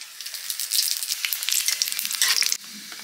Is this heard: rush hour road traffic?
no